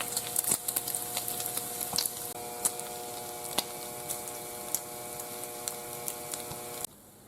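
Bacon sizzling in a hot pan, a dense steady crackle with frequent sharp pops and spits, close and moderately loud, ending abruptly; no talk.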